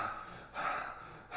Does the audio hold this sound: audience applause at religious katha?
no